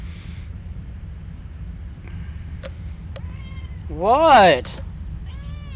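A cat meows in the game Duskers, a couple of short rising and falling cries that swell loudly near the end over a low hum, with a brief spoken word before it.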